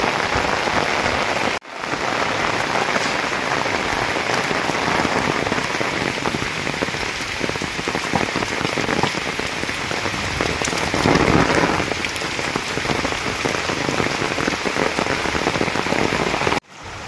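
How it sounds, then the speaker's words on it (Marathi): Heavy unseasonal May rain pours steadily and loudly, a dense continuous hiss of drops drumming on surfaces, with no voices. "भरपूर भरपूर म्हणजे भरपूर असा पाऊस पडतो आहे"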